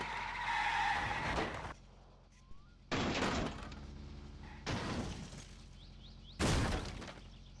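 A car crash in My Summer Car: loud bursts of skidding, crunching impact and shattering glass come in four separate hits, with quiet gaps between them.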